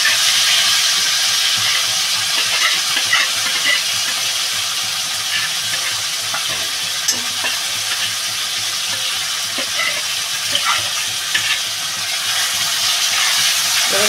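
Chili, ginger and ground coriander-cumin paste frying with tomatoes in a Bengali potato and green tomato curry with fish balls, giving a steady loud sizzling hiss that runs unbroken throughout with no voices.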